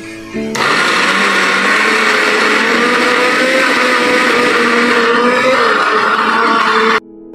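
A kitchen machine grinds chicken kofta mixture, starting abruptly into a loud, steady motor whine that holds for about six seconds and then cuts off sharply.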